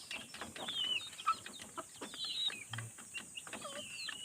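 Native chickens cluck and call in short bursts around a farmyard, with a few sharper bird chirps scattered through the steady low hum of outdoor background noise.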